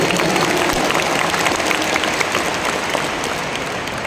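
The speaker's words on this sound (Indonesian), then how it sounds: "Tepuk tangan untuk semua yang memilih hadir di sini." A crowd claps steadily in a dense, loud burst of applause at a political rally in Jakarta International Stadium that carries on without pause for a few seconds.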